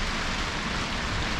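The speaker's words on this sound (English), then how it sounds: "it's raining pretty good outside" Steady rain pours outside a garage shop, heard from indoors as a continuous, even broadband hiss with no breaks, moderately loud and alone.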